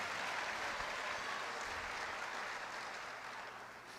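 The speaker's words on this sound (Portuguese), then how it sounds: "Dá um aplauso ao Senhor" A church congregation applauds during a service, a dense, steady wash of clapping heard from across the room that slowly fades toward the end.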